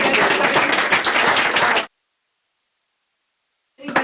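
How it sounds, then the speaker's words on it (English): Audience applause at a climate and media event held by the Environmental Affinity Group at The Denver: a dense burst of clapping for about two seconds that cuts abruptly to silence, with a brief sound returning at the very end. "I also want to give a round of applause to the Environmental Affinity Group"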